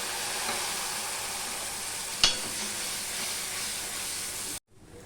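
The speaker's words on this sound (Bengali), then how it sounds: "মশলাটা কষানোর জন্য অল্প একটু জল দিয়ে দিলাম" A little water is splashed onto a cumin and coriander spice paste frying in oil, giving a steady close hiss with one sharp crackling burst midway, before the sound cuts off abruptly near the end.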